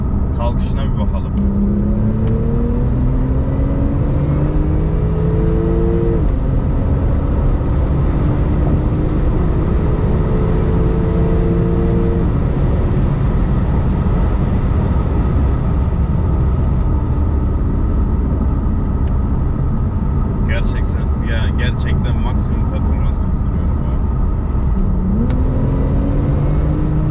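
A Porsche 991 Turbo pulls away under launch control, its engine rising loud and close through several climbing, stepped pitches before settling into a steady rumble, then revving up again near the end.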